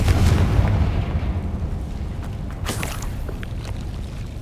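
A Confringo spell blast in the Hogwarts Legacy video game: a loud booming explosion at the start that rolls into a rumbling, crackling decay, with scattered pops and debris sounds afterward.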